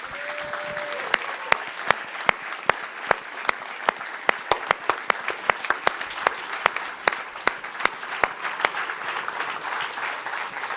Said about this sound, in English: sous vos applaudissements, sans doute aussi spontanés